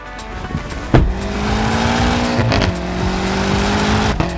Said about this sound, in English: 2020 BMW M8. Competition Cabriolet in the middle of winter with launch control.